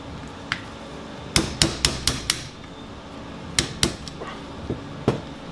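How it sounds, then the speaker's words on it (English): A series of sharp metallic soft-hammer taps on an Atlas Gunworks pistol's top end during takedown, five in quick succession, then a pause and a few more scattered strikes, close and fairly loud. "I just take a soft hammer, a couple whacks, I'm in."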